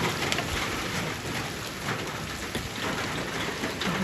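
Steady, dense rainfall hissing continuously, close and fairly loud, with no voices.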